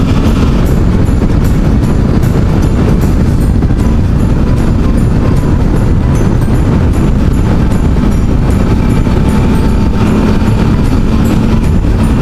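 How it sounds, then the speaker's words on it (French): A Suzuki V-Strom 650 motorcycle engine revs during a winter ride, a loud, constant low rumble mixed with heavy wind buffeting throughout, with no talk. "Allez, on décrasse un peu le moteur."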